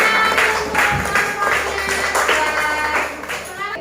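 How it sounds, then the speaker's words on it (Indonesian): Loud, close clapping from a small classroom audience after a presentation, steady and continuous throughout, with voices mixed in. "Terima kasih, tepuk tangan."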